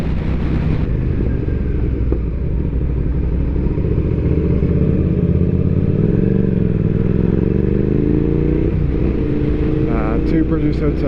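A motorcycle rides along a road, its engine a steady close rumble mixed with wind roar and faint clattering, continuous and loud throughout with the pitch shifting slightly as it moves.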